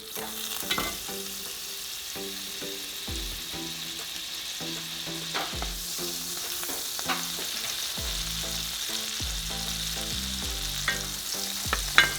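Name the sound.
butter sizzling in frying pan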